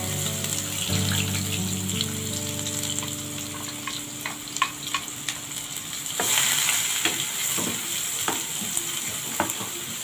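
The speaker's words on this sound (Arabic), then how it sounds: "حطينا شويه زيت، هنحط البصل" Onions hitting hot oil in a pan on a gas stove, a steady sizzle with scattered crackles and stirring scrapes, close and fairly loud, with a brief tonal hum early on and no talking.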